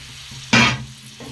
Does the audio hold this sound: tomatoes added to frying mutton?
yes